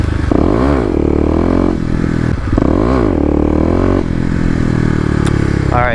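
A Kawasaki KLX250 motorcycle with a 13T sprocket, ridden in wet weather, revs loud and close in repeated rising and falling surges as the clutch is popped.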